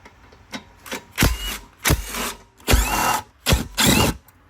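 Power tool loosening the 3/8 bolts on a Craftsman lawn mower, five short loud whirring bursts of roughly a second each, separated by brief pauses, close up with no talk.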